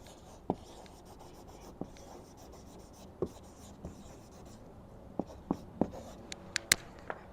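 A marker squeaks and taps across a whiteboard surface mounted on a van door, with sparse short strokes and clicks, close and quiet, no talking.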